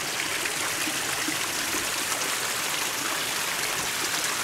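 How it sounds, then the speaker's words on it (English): Creek water spills over small rocky waterfalls on Lower Rock Creek in Missouri, a steady, full rushing wash that stays constant and close throughout, with no voices. "Look at these little baby waterfalls."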